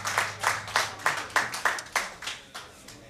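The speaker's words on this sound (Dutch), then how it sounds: "Applaus voor Lars Hoving." A single pair of hands clapping about ten times in a steady, slightly slowing rhythm, close and clear, for a guest on a local Dutch election broadcast.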